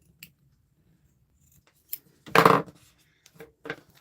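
Scissors cutting fabric for a sewing project, one louder crisp snipping slice near the middle with a few faint clicks and small cuts around it, close up in an otherwise quiet room.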